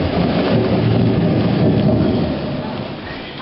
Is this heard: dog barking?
no